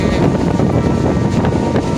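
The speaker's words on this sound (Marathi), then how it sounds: "आणि पाण्याचा वारा पण जाम सुटतोय" Strong gusty sea wind at Uran Beach buffets the microphone in a steady, loud rush, with a low roar like surf beneath it and no voices.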